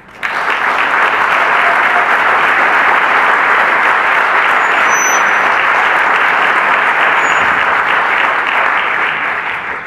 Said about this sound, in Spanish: un fuerte aplauso para Martín Otaño